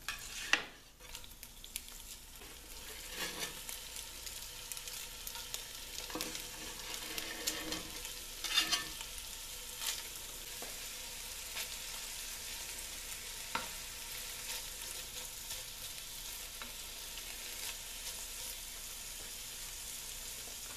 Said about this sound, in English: So this is top sirloin steak, and I've cut it into bite-sized slices, and we're gonna brown that up.